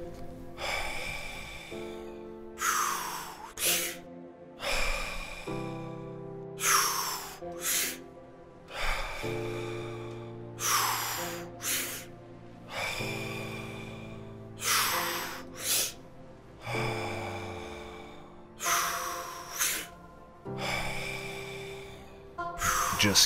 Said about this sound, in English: Just keep on breathing like this.